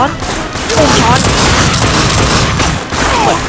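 Rapid gunfire in the video game The Darkness II, loud bursts of shots packed together with a few brief gaps, voices and game sounds mixed underneath.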